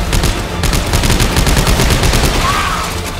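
Rapid automatic gunfire rattles nonstop in Coronavirus The Game 3, a loud, dense burst of repeated shots with no pause.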